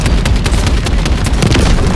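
In a Call of Duty: Modern Warfare 3 battle, a helicopter is shot down amid a continuous loud barrage of gunfire and booming explosions, with no pause in the din.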